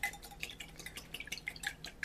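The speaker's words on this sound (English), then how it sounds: "we're just going to whisk those up really well." Eggs and water being whisked in a bowl, with fast, light, irregular clicking and sloshing taps close by at a quiet level, and no talking.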